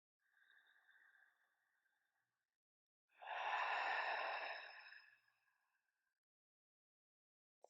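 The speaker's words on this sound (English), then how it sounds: "Let's take a cleansing breath." Deep cleansing exhale during a gentle yoga session, preceded by a softer inhale, then a long airy sigh-like breath out lasting about two seconds, close and quiet with no talking.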